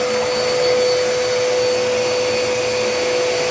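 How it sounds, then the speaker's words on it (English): A Dirt Devil Endura Reach vacuum cleaner runs on an area rug, producing a loud, steady motor whine with a high tonal hum that holds unchanged throughout, with no talking. "this is the vacuum you want to have to use on your area rug"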